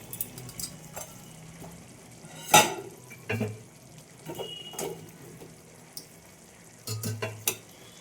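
Potatoes go into a pan where prawns and jackfruit curry base are sautéing, with a soft sizzle under scattered clanks, scrapes and a louder splashing drop, close by.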